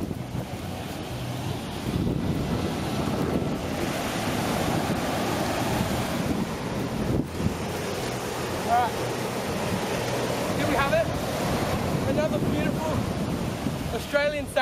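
Surf rolls and breaks on a beach on Kangaroo Island where people are fishing for bream and Australian salmon. It makes a steady, close roar mixed with wind buffeting the microphone, and faint chirpy squeaks appear near the end.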